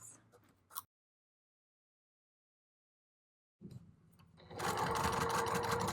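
A sewing machine runs along a drawstring bucket bag seam, starting after a stretch of silence with faint handling sounds, then settling into a loud, steady close-up whir through the end.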